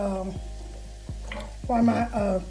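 Onions grill in a pan on a stove, a steady close sizzle with several sharp scraping or stirring strokes that dip and swell in loudness.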